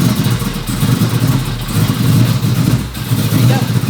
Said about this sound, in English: So let's go fire this up.